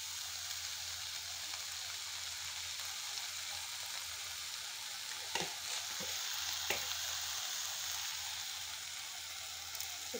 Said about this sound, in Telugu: ఓకే ఫ్రెండ్స్, అంతా ఈవెన్గా మగ్గుతుంది.